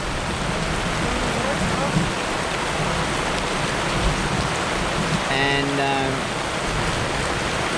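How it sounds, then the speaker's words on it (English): Steady rain pours and patters loudly throughout in Vietnam, with a brief voice speaking partway through. "now the rain's coming that way."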